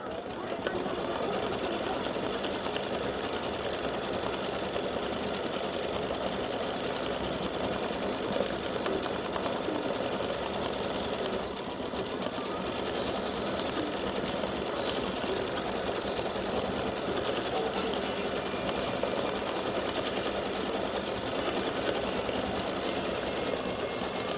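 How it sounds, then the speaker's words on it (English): Embroidery sewing machine stitches satin stitches around a shamrock for a free-standing lace beer mug earring and pendant, a steady loud mechanical whirring hum that runs unbroken for the whole span, with faint talk at times beneath it. "Just about finished with the shamrock. It's getting ready to do the satin stitches around the shamrock."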